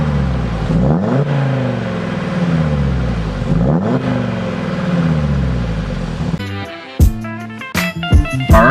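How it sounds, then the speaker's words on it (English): Audi TTRS engine revving hard with a rasping exhaust note, two long rising pulls from up close, followed by sharper, choppier bursts of throttle near the end. "most importantly, you get that amazing exhaust sound"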